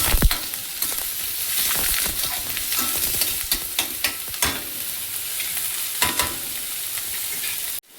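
Frying in a pan for fenugreek leaf bhaji, a loud steady sizzle punctuated by scraping spatula strokes at uneven intervals, close and continuous, cutting off abruptly at the end.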